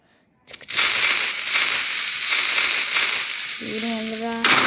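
A bomb blast in a block-building video game: a sudden loud, broad roaring burst that sustains for several seconds at close range, with a short tonal game chime near the end.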